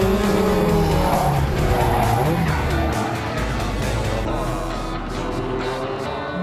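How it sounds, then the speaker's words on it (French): Renault 5 Turbo rally car driven hard, a loud continuous engine roar with squealing tires, heard close and dense, with someone talking over it. "Je freine avec le haut du pied, toc, et un coup de talon pour l'accélérateur pour relancer la vitesse"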